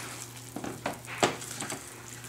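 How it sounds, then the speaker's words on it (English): Vegan cookie dough being folded and mixed with a wooden spoon in a bowl, giving several soft, irregular scraping and thudding strokes, fairly quiet over a low background hum. "And then take our wooden spoon. Okay, mix it all together here."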